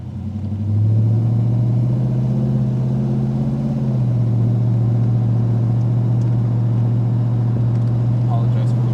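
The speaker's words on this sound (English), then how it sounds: "1964 GTO. Hopefully you can hear a purr in the background." A 1964 Pontiac GTO custom engine with the top down, a steady low rumbling purr while driving, with a brief shift in pitch early on, then holding even under wind noise.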